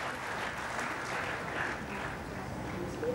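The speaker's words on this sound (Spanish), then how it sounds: "muchísimas gracias por ese aplauso" Applause from the audience at a Ballon d'Or ceremony, a soft, steady, somewhat distant crowd clapping that stays even and fairly quiet throughout.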